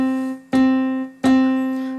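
Casio WK-7600 keyboard factory preset piano tone, a sustained bright note struck three times in steady succession, each attack ringing and decaying under the next, played alone.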